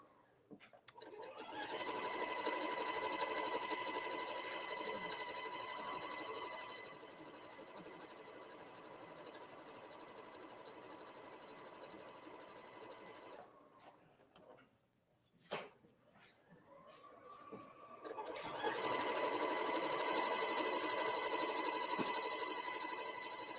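Sewing machine stitching quilt fabric, running steadily in long bursts with a drop to near silence midway before resuming loud and close; no talking.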